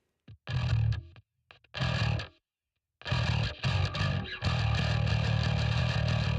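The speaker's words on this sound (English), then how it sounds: "We've got two tones in here. We've got a low end distortion and a high distortion." A split-tone distortion effect from an iOS music app, blending a low-end distortion with a high distortion into a loud, buzzing, saturated tone that cuts in and out in short bursts before holding steady.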